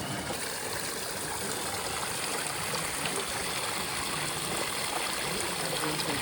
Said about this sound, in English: You can see the hot water over there.